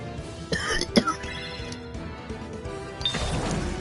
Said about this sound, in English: I'm still having a little bit of cough here tonight